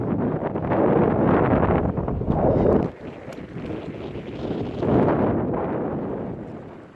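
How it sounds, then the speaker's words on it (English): Strong wind buffets the microphone of a cyclist riding into a headwind, loud rumbling gusts that surge, drop briefly, then swell again, close and without speech. "You might be able to hear it's really windy and the wind is blowing in my face"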